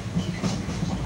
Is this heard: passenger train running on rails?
yes